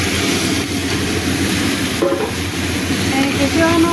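Prawns are tipped into a hot pan with peanuts, salt and turmeric and fry with a loud, steady sizzle, with a few brief scraping stirs near the end.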